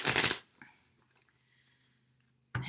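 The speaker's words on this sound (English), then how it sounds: "they want me to shuffle up this deck" Cards from a Mystical Shaman Oracle deck are shuffled in a quick riffling burst, loud and close, then a quieter faint rustle before a voice briefly starts at the end.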